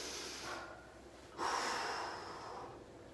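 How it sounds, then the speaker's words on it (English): Heavy breathing during a home workout: a rough inhale, a short pause, then a louder, longer exhale, close to the microphone and with no talk. "Breathing."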